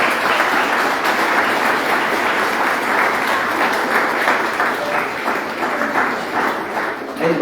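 Loud, sustained applause from a church congregation during a Spanish-language sermon, dense clapping filling the room steadily for the whole stretch with no pause.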